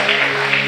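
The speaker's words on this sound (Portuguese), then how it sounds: "E aquele que crê, diga amém, e pode aplaudir o Senhor." A church congregation clapping together in praise, a dense, even wash of applause filling the room without a break for the whole brief moment.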